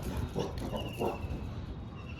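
A dog gives a couple of short, close barks early on, then the sound settles into low background noise.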